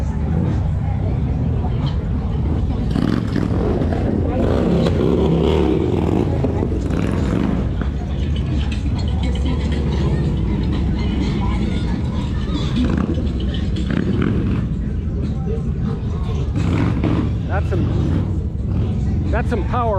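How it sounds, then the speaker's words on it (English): Loud, steady engine rumble from big Harley-Davidson motorcycles on the Mission Beach boardwalk, San Diego, constant throughout with a crowd murmuring underneath. "That's what they call some big Harleys."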